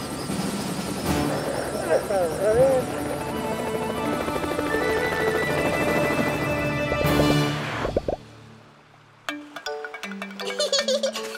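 Cartoon aircraft taking off in a children's animated show: a loud, sustained engine drone with a rising whine runs for several seconds, then cuts off abruptly, followed by brief plinking cartoon effects and a character's voice.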